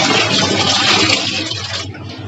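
Water pours into a bathtub at home in a loud, steady, close rush that holds for about two seconds, then thins slightly toward the end.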